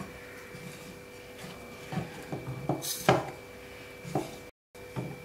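A spoon clinks and scrapes against a pot while stirring ragi porridge (kezhvaragu koozh), with a few distinct knocks and scraping strokes over a quiet kitchen background.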